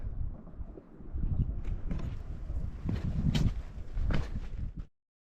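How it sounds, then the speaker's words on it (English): Hooves of pack mules on a Grand Canyon trail clop and shuffle over ground amid gusting wind, a steady uneven walking rhythm close by that cuts off abruptly. "Pack mules crossing the river."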